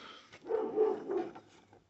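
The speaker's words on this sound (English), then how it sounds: "Sorry, that's our dog upstairs." A dog barks from upstairs: a few muffled, short barks and whimpery yips in quick succession, heard indoors through the house at moderate distance.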